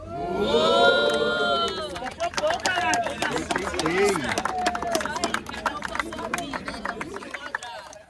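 A loud crowd at a rap battle in Guarulhos roars and cheers continuously, with shouts and whoops rising over a dense babble of voices throughout.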